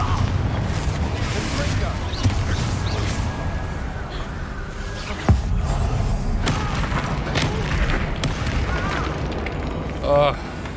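A Confringo fire spell explodes in the Hogwarts Legacy video game, a sharp boom bursting through a dense, continuous wash of game music and effects, with a brief later flare near the end.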